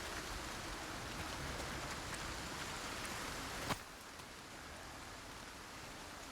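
Steady, even rain hisses throughout a scene in the video game Resident Evil 4 Remake. It stays faint and constant, with one brief click partway through and a slight drop in level afterward.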